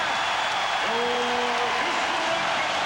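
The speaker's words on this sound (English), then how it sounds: "the Rockets hear the applause from the crowd" Steady crowd applause fills the arena at an NBA Finals basketball game, a broad wash of clapping and noise with brief voices rising over it in the middle.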